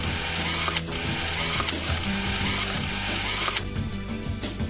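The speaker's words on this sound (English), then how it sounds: "Tighten them to the specified torque as shown." Mechanical clicking and ratcheting of a torque wrench tightening engine bolts on a Bajaj Pulsar NS 200 motorcycle engine during reassembly, steady workshop clatter throughout with a few sharper clicks.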